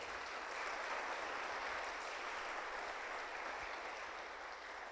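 A church congregation on Easter Sunday claps for the King in a steady, dense wash of applause that holds at an even level throughout, with no voices standing out.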